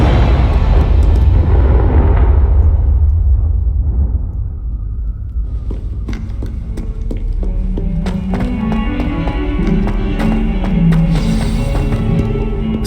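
A Confringo blasting spell in Hogwarts Legacy goes off with a loud, rumbling explosion that fills the first few seconds, then fades into quieter game ambience with scattered small clicks and tonal sounds.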